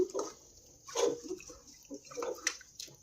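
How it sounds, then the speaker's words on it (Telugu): Broccoli pieces being washed in turmeric and salt water, with soft sloshes and splashes in short bursts, close and quiet. "కట్ చేసుకున్న ఈ బ్రోకలీ ముక్కలను అయితే వాటర్లో వేసేస్తున్నాను"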